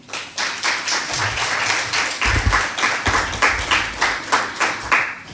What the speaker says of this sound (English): I'd like you to give her a very warm round of applause, Jyotsna Mohan.